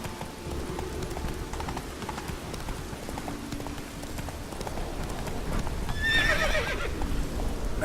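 Roach, a horse in the Witcher 3 video game, gallops with steady rhythmic hoofbeats, then lets out a loud shrill whinny near the end as the gallop carries on.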